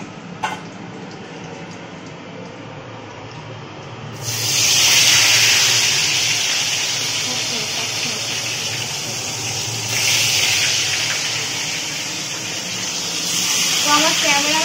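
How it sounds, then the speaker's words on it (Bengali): Fish fries in a pan of hot oil, a loud sizzling hiss that bursts in after a quiet start and rises and falls in waves, with a voice speaking over it. "এই দেখো এখন আমি মাছ ভেজে নিচ্ছি"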